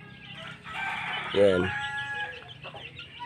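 Chickens cluck and squawk close by, a mix of overlapping calls with one louder burst, while a person speaks briefly.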